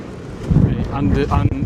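Strong wind buffets the microphone with a heavy, low rumble on the open deck at the front of a cruise ship, and a person talks underneath the gusts.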